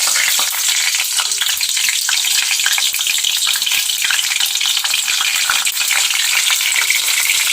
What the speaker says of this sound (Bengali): ধনে পাতার চাটনি করব, ওই জন্য রসুন আর লঙ্কাটা তেলে ভাজলাম।